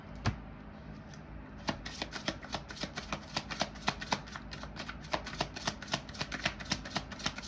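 Tarot cards riffle-shuffled in a steady run of crisp, rapid flicks and snaps, close and fairly quiet, with no talking.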